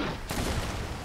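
Ship cannons boom in the pirate game Sea of Thieves, a single sharp blast that cuts in suddenly and leaves a short rumbling tail, close and loud.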